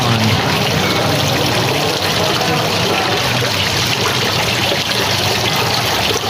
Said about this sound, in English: I looked online for the sounds of a water pump in a fish pond